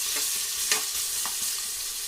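Chopped onion sizzles steadily in a hot pan while being cooked for an Arabian chicken madhooth dish, with a few soft spoon scrapes as it is stirred, and no voices.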